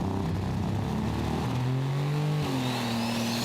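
Loud, continuous revving comes from a superstock pulling tractor during a run at the Eurocup tractor pull in Brande, Denmark. The engine note is heavy and near, with the pitch dipping and climbing as it strains down the track.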